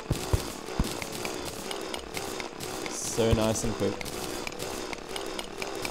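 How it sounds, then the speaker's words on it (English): A drill buzzes steadily while mining cobalt ore in the video game Terraria, a continuous grinding whir with small rattling bursts, as someone talks over it. "Ah, that nice cobalt drilling."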